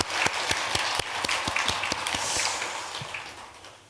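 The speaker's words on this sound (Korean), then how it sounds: "우리 주지스님에게 큰 박수 한번 쳐주세요." Clapping at a Buddhist dharma assembly in a Korean temple, welcoming the head monk: a loose burst of distinct hand claps, fairly sparse and moderately near, fading out toward the end.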